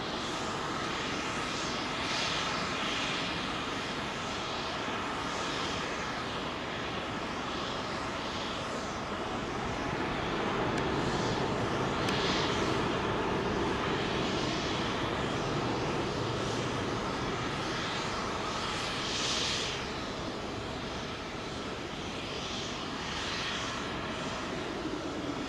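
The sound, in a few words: Virgin airliner departing Heathrow runway 27L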